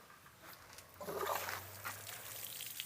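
Water from a hose gushes and splashes onto the earmuffs of a 2007 Mercury 225 Optimax outboard motor, a faint sloshing trickle that swells after a second and then keeps running.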